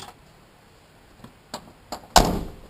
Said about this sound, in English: when you shut this door